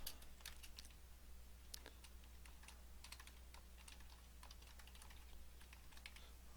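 Computer keyboard typing sounds as a steady run of quick, light key clicks in irregular bursts, close and fairly soft over a low electrical hum, with no one talking.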